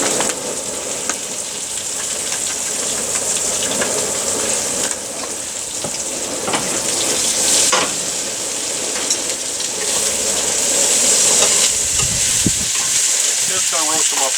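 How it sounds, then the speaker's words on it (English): Seasoned lamb kleftiko pieces sizzling and frying in a hot pan, a loud steady crackle with occasional stirring scrapes, while a voice talks over it at times. "Just gonna roast them up just a little bit."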